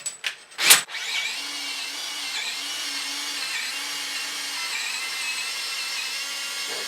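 After a few quick clicks, a power drill driving threaded rod on a school bus conversion whirs loudly and continuously, its motor whine holding steady as it spins.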